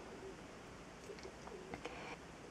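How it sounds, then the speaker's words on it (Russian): Pigeons living beside a balcony coo softly at a distance, a few faint, low calls in quiet outdoor ambience with no talking. "Слева от балкона у нас живут голуби."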